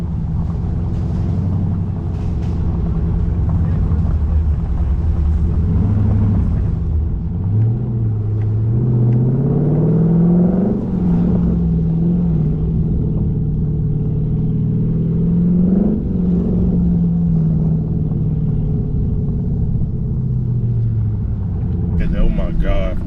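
A Dodge Durango Hellcat and a Durango Scat Pack (392) rev loudly in a street race, their engine notes climbing and falling in two sweeping pulls, with a deep rumble throughout and people talking faintly inside the car.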